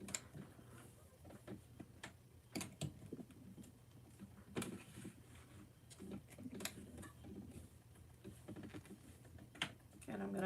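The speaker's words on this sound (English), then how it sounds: "I'm going to back stitch a little bit more." A sewing machine stitches a bag, with a steady low motor hum and rapid ticking of the needle mechanism running throughout, plus scattered sharper clicks, all fairly quiet and close.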